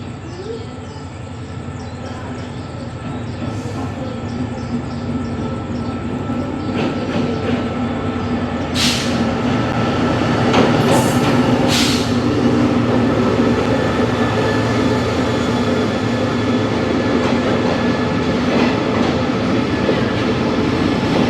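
A rapid train runs from Thailand to Malaysia, heard from inside a carriage. It makes a continuous loud rumble with rattling and rhythmic clatter, and a few sharp squeals and clicks cut through partway.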